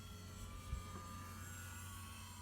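A DGA-6 V2 RC model airplane flies at about half throttle while climbing, giving a steady, faint engine drone that holds level throughout, with one brief low bump partway through.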